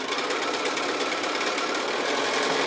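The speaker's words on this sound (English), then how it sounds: "So I'll go ahead and start sewing these" A sewing machine stitches quilt-as-you-go blocks in a steady, continuous run at close range, its motor whirring without pause and no voices over it.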